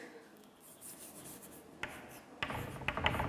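Marker or chalk scratching on a board during a physics lesson, faint at first and then louder scraping strokes over the last second and a half, with no talk.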